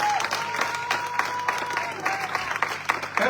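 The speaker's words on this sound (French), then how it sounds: "Un acclamation très fort pour la gloire de Dieu." An audience at an Easter prayer vigil in a church applauds steadily and strongly, sustained clapping with a few crowd cheers mixed in.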